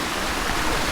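A stream flows along a trail in Cebu, a brief, even rushing of water at moderate volume.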